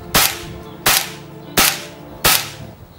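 Four sharp air rifle shots fire slug pellets at a steady pace, roughly one every 0.7 seconds, each a loud crack with a short decaying tail at an outdoor test range.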